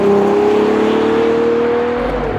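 A Ferrari Purosangue V12 downshifting on the road: a loud, smooth engine tone holds steady and then slides slightly lower for a couple of seconds, heard close and alone.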